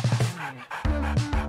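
A dog pants rapidly and loudly up close, quick rhythmic breaths broken by a brief pause, with a few whimper-like tones mixed in.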